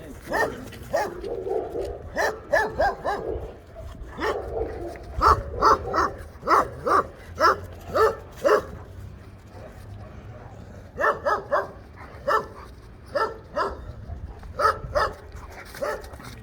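A dog barks repeatedly in short bursts, close by, with pauses between volleys and some yips mixed in.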